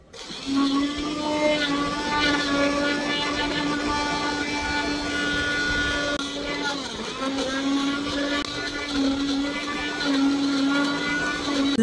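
A blender motor runs steadily through large chunks of fruit for sorbet, a loud continuous whine that dips briefly as the load shifts before resuming.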